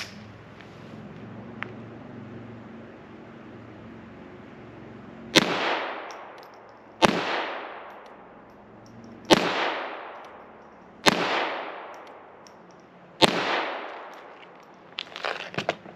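A vintage 1989 Ruger Mark II semi-automatic .22 LR pistol fires CCI cartridges outdoors: five sharp, loud single shots spaced about two seconds apart, each with a short decaying echo, after a quiet lead-in.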